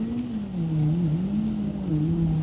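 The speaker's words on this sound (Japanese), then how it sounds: "モーターボートの音が響く。" A steady engine drone with a wavering low pitch, a motorboat running continuously nearby at Katase fishing port, rising and falling slightly in tone.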